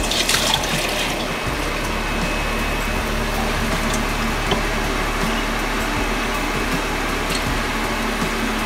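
Lentil soup dal pours into an Instant Pot with a steady, continuous liquid splashing and gurgling, close and fairly loud, over a low background hum.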